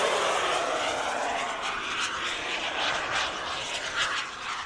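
An MB-339 model jet powered by a LintonJet X80DX turbine flies a loop at half throttle, its steady high turbine whine and airflow roar drifting overhead at moderate distance, swelling and fading slightly as it passes.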